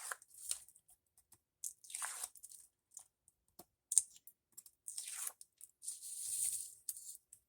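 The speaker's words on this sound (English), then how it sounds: "let's get our little nubbin things here and pull this tape off" Tape peeled in short tearing strips off paper ephemera pieces at a craft table, a series of crackly rips close by with brief pauses between them and no talking.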